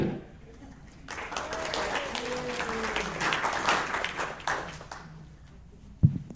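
Congregation at a Sunday service applauding, a sustained wash of many hands clapping at moderate distance, with a voice speaking over it before it fades near the end.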